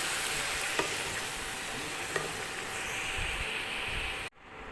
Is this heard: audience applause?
no